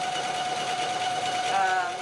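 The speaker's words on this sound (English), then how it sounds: "And I'm just going to sew" A domestic sewing machine runs a dense decorative stretch stitch around the edge of fabric for a handbag, a steady close whirring hum with a constant tone throughout, no talking.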